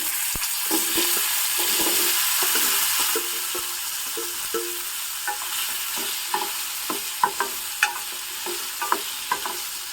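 Amla (Indian gooseberries), soaked for twenty minutes, go into a hot pan with asafoetida for pickle: an initial sizzle settles into a softer fry under repeated spoon scrapes and taps of stirring, near and clear, without speech.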